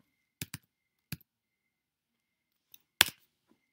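A few separated computer keyboard keystrokes and clicks while editing text on a computer, sparse and close, with long silent gaps and no talking.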